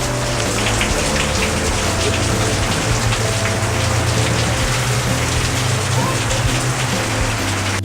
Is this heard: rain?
yes